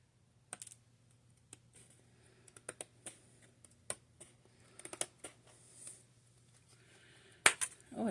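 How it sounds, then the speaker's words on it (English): Scissors snip planner pages in a quiet room, scattered sharp clicks and cuts spaced irregularly, with a louder cluster of snips near the end over faint background hum. "These scissors are not the best."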